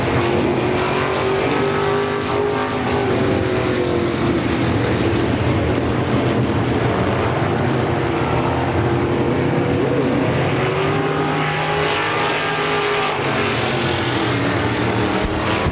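Race car engine roaring through a lap at Pennsylvania Motor Speedway in Pittsburgh, a loud continuous drone with rising and falling pitch as the car sweeps around the oval, steady throughout with wind buffeting.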